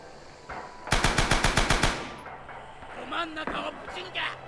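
A machine gun in the World War II shooter Rising Storm fires a rapid burst of about ten loud, evenly spaced shots, followed by fading echo and a voice talking.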